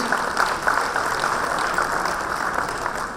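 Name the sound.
audience applause welcoming a panel moderator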